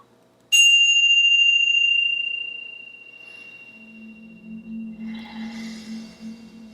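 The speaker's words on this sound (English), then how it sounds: "after the sound of each bell" A single meditation bell strikes clearly and rings out with a long, pure, slowly fading tone in otherwise quiet surroundings, followed by faint soft sounds.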